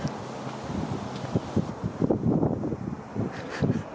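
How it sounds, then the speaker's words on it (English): Wind gusts buffeting an outdoor microphone in a green, leafy spot, a steady low rumble with swelling bursts and rustling throughout, fairly loud and close with no talk. "Here comes the wind."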